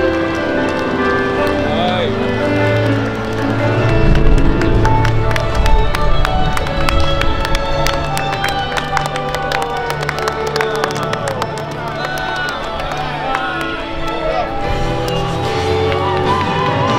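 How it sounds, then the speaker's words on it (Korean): A baseball stadium crowd applauds and cheers for player Park In-ho in a KT game, with sustained clapping filling the space while an announcer's voice runs over it. "박인호 선수에게 다시 한번 축하 박수 부탁드립니다"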